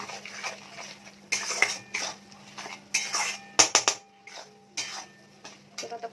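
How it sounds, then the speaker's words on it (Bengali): Ground spices with chili powder, salt and cumin sauté in oil in a pan, heard as repeated metallic clinks and scrapes of a spoon against the pan over a low background hum, with irregular bursts of stirring. "এবার ভালো করে কষিয়ে নেবো মশলাটা তেলের সাথে"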